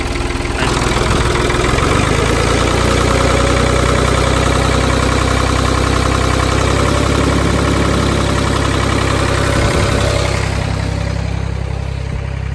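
A tractor engine idles steadily and loudly throughout, close by, a continuous low rumble with mechanical knock, while hooked up to jump-start a Chevrolet C10 pickup; no talking.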